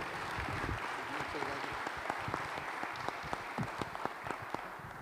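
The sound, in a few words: audience applause for the navy captain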